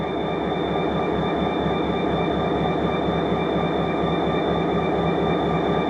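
A Lake Michigan & Indiana Railroad train rolls steadily past on nearby tracks, a loud continuous rumble of wheels and rail noise with a faint high squeal, with no one talking.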